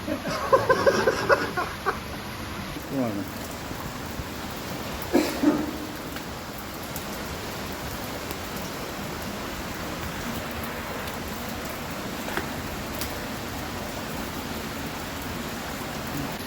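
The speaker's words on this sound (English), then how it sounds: "Yeah, it's raining" Steady rain falls on a hiking trail in Frozen Head State Park in a broad, constant hiss, with a few brief knocks and rustles early on; no voices.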